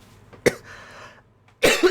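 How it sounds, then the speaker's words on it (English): Two sharp coughs from one person, close to the microphone, separated by a quiet stretch of soft background noise. The second cough is longer and rougher. "I'm coughing."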